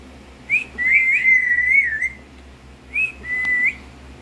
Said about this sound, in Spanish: Está silbando.